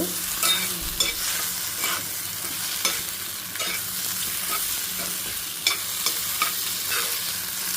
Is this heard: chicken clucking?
no